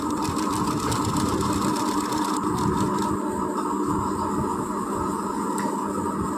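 Sewing machine running continuously while stitching the sleeve of a long frock, a steady close mechanical whir with no speech.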